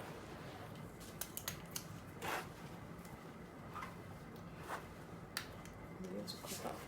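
Scissors snip through fabric being cut for an apron, giving a few quiet, scattered crisp snips over a soft, steady background.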